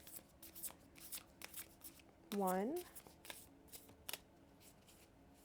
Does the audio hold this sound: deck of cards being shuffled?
yes